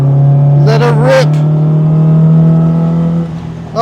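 An MGB with a Type 9 Ford five-speed gearbox revs hard at full throttle on the Castle Combe track, a loud sustained engine drone holding steady, with a voice talking over it.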